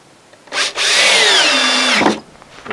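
A power drill drives a big screw into 2x2 wood in a single loud burst of about a second and a half, its whirring motor rising in pitch, then stopping with a short clunk.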